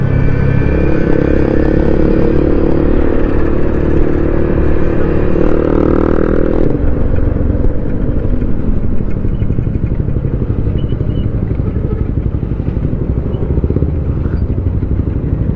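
A Yamaha RS100 two-stroke motorcycle engine runs loudly and close, with a dense rattling buzz and some revving early on, then settles into a steady idle-like drone.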